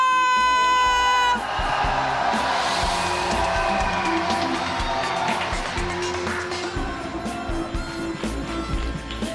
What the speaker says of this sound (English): I know you will welcome them with warm applause